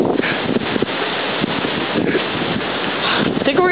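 Strong wind roars against the microphone during Hurricane Sandy, loud and gusty throughout with a rough, buffeting texture and possible rain mixed in, no clear speech.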